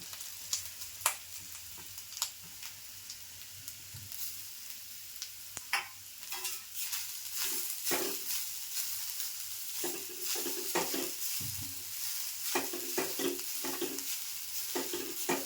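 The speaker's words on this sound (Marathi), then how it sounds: "तूप टाकून घेते आणि खोबरं सगळं जरा परतून घेणार मी दोन मिनटाचं" Grated fresh coconut sautéed in a spoonful of ghee in a pan, with steady soft sizzling and frequent scraping, stirring clicks from a utensil, close up and alone without any voices.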